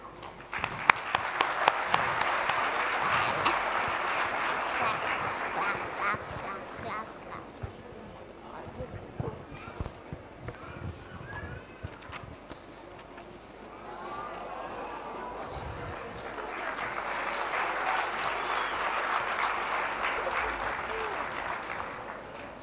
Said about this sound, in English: Clap, clap, clap, clap, clap, clap